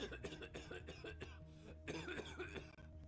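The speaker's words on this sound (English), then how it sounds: "Suddenly, a violent cough erupted" Harsh, violent coughing in several rough bursts, close and fairly loud, with some throat-clearing mixed in.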